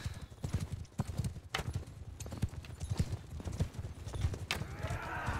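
Rapid hoofbeats of several horses galloping in a steady drumming rhythm in Mount & Blade: Bannerlord, with a brief whinny and some clattering game noise layered over the pounding.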